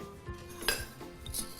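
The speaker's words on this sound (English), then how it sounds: "So we're going to whisk that just a little." A whisk beats batter in a bowl, giving a few faint, quick metallic clinks and scrapes against the side over a quiet room.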